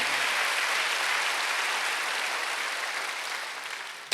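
Church congregation at a Wednesday worship service applauding, a dense, steady wash of clapping from many hands that holds evenly for about four seconds, with no voices on top.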